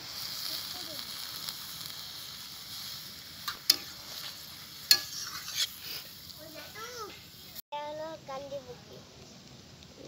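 Spinach and fish in a pan after water is added, giving a steady low sizzle and bubbling with a few sharp utensil clacks. A child and an adult talk over it near the end.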